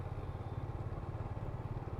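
A Hunter motorcycle rides past at night on a road trip with friends, its engine a steady, loud, low throbbing drone with a rough pulsing texture, close by and continuous for the whole stretch.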